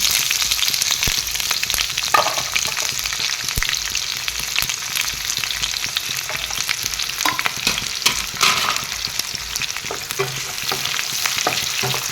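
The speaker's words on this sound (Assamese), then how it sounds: "পিঁয়াজখিনি যেতিয়ালৈকে ধুনীয়াকৈ ৰং চঙোৱা নহয় তেতিয়ালৈকে পিঁয়াজখিনি মই ভাজি দিছোঁ।" Chopped onions with dry spices fry in hot oil in a wok, a dense continuous sizzle with scattered scrapes and clicks from stirring, close and steady throughout.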